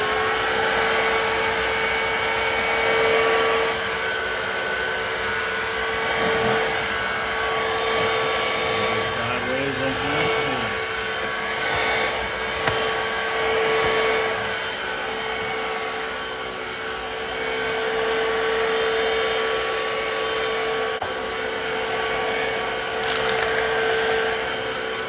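A Black & Decker Powerseries+ cordless stick vacuum cleaner runs steadily at its high-speed setting, a continuous whirring whine with a slight rise in pitch partway through, heard close up.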